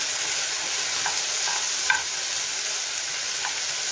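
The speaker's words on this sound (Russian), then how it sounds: "Сейчас я разогрею сковородку и буду обжаривать курицу." Chicken frying in a heated pan gives a steady, close sizzle of hot oil, with a few faint clinks and stirring scrapes above it, and no talk.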